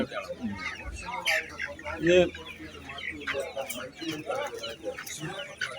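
Native chickens cluck and squawk at a poultry market in Kalpakanchery, busy overlapping calls close by, with people talking underneath.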